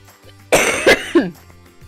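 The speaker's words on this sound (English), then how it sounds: "if the coughing persists, then I'll have to go quilt in private" A person coughs three times in quick succession, close and loud, against a quiet background hum.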